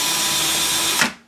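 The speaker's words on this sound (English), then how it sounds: "Well, I'm just spotting a hole." A power drill spots a hole in the aircraft instrument panel of a Piper Super Cub Widebody under refurbishment, whining steadily and loudly for about a second before cutting off abruptly.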